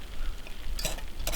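A utensil stirs chicken tandoori in a hot pan over a two-burner propane camp stove, with a steady low hiss and two short bursts of scraping, close up and without talk.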